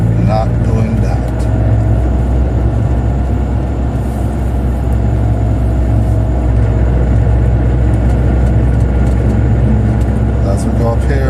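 A car engine pulls hard in third gear while climbing a rise, a steady loud drone and rumble building under the acceleration, with constant road and cabin noise throughout.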